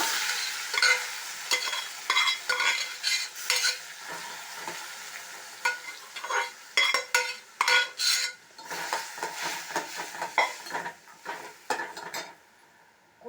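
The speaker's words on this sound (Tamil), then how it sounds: "பேனில் கொஞ்சமாக நெய் விட்டுக்கோங்க தேவைக்கேற்ப இதுலேயே இந்த கேரட்டையும் நம்ம சேர்த்துடலாம்" Boiled carrots fried in ghee in a pan for carrot halwa, heard as a continuous run of quick, close metal-on-pan scrapes and clinks over a light sizzle, with no one talking.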